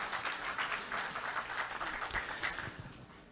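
Audience applause at a Liberty Korea Party national convention debate for party leader candidates: dense, steady clapping from a large crowd that fills the hall throughout, easing slightly toward the end.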